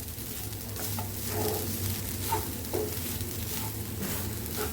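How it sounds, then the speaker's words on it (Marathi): Grated fresh coconut stirred and roasted in a pan over medium flame gives a steady soft sizzle with occasional scraping strokes, moderately close and alone, no voices. "मीडियम गॅसवर परतायचं खोबरं।"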